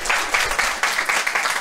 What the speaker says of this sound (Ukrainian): Євген, дайте Євгену трошки оплесків.